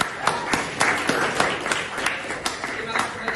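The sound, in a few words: audience applause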